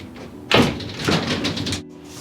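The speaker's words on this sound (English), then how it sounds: "Alright, so I'll show you how bad this door is actually sticking to the frame." A front door sticks at the top and rubs against its frame as it is pulled open: a loud thump, then a scraping, grinding rub that lasts about a second, close by, with no talk.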